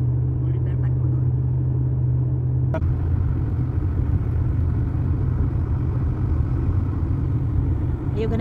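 Car driving along a road on a trip toward the Athabasca Glacier, a steady low rumble of engine and road noise heard from inside, continuous and moderately loud under occasional talk.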